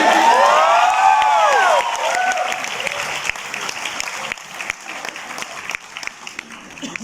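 Audience applauding and cheering, loud clapping with whoops at first, then the clapping thins and fades to scattered claps.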